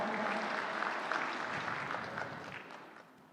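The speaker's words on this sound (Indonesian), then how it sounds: "Kita berikan tepuk tangan untuk" Audience applause at an awards ceremony announcing winners of an advocates' graduation gown design competition, a steady wash of clapping that fades gradually over a few seconds with no talk.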